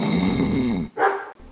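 A person imitating snoring: a short, loud, rasping snore-like grunt, then a brief vocal sound after a pause, close up.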